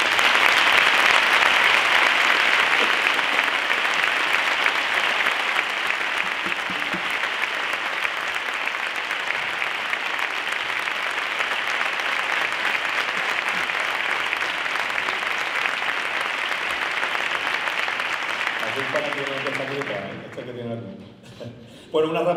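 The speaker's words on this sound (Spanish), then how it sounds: "yo creo que le podemos ofrecer una ovación a José Luis Gómez Jaldón" Sustained audience applause and ovation at an outdoor concert by marching bands, following a processional march; steady dense clapping for about twenty seconds before it fades out and a voice begins.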